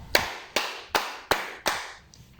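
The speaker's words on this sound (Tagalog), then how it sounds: "Bigyan natin ng 5 palakpak si Almart." Five claps for a student during a class lesson, delivered in a steady, evenly spaced rhythm, each one sharp and close with a quick fade and quiet gaps between.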